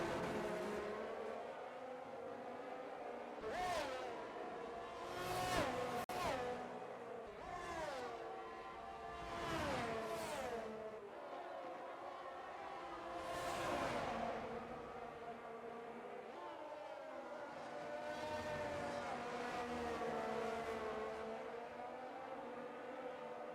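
Race cars in a sim racing game at the British Grand Prix, several whining engines passing in turn with rising and falling revs and gear shifts, under a steady track drone, with no voices.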